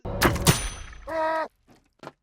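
A crossbow bolt strikes a non-player character in a video game, giving a couple of sharp, loud thunking impacts followed by a short tonal groan and a few faint trailing blips.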